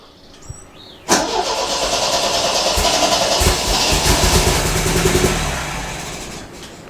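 An MGB classic car engine catches on fuel squirted into its carburettors, cranking briefly then roaring into a loud, rough, steady run for several seconds before dying away.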